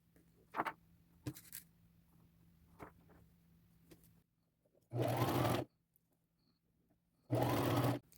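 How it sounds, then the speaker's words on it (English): A sewing machine runs on a purse seam in two separate bursts of about half a second each, loud and close, after a stretch of scattered light clicks and fabric handling with no talking. "I will pin and sew this just like we did here"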